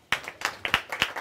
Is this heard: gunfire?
no